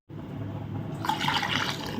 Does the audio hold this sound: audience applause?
no